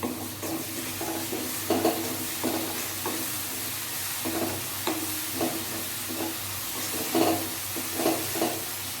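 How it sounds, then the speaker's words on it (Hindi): Dry fruit paste being stirred and roasted in a pan for a besan and potato curry, a steady sizzle with repeated scraping strokes of the spoon every second or so, close and clear with no voices. "जो मैंने पेस्ट तैयार किया था ड्राई फ्रूट का, उसको भी डालकर चला चला के भून लेंगे"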